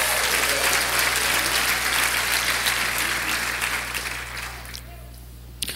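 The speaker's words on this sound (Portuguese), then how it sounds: "Dê uma salva de palmas ao Senhor." Congregation applause fills a church service, a dense, loud clapping that rolls on steadily and then thins out and fades toward the end.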